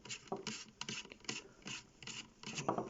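Screws being backed out of a DJI Mavic 2 drone with a magnetized screwdriver, quiet close-up scratchy scraping and rubbing strokes in short repeated bursts.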